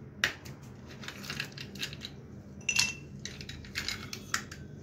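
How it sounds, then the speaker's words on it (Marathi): Ice cubes drop into a glass for an orange mocktail with crushed mint, several sharp close clinks and clatters spaced unevenly over a quiet background. "त्यात मी तर बर्फाचे खडे घालते।"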